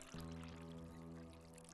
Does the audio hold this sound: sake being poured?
yes